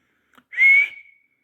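A single rising whistle through the lips, clear and close, held for about half a second before trailing off, preceded by a couple of faint soft clicks.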